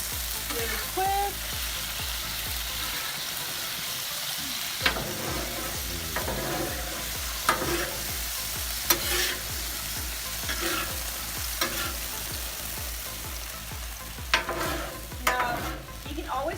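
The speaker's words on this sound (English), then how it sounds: "let's go ahead and give it a little mix really quick" Meat for discada tacos fries in a pan while being stirred, a continuous sizzle broken by repeated scraping and clattering strokes of the utensil, close and fairly quiet.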